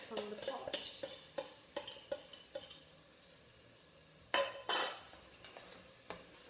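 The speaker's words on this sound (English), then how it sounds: "So time to add your tomatoes." Tomatoes go into a pot of chicken curry: a spoon scrapes and clinks against the pot in a quick irregular rhythm over a soft sizzle, with two louder scraping bursts near the end.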